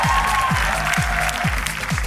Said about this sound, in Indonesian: Sekali lagi tepuk tangan untuk 4 tim yang sudah tampil luar biasa malam hari ini